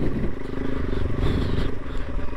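A KTM Adventure 390 motorcycle on Motoz Tractionator Adventure tyres rides off-road and tries to dig out of a hole. The engine revs close and throbs unevenly amid rattling clatter.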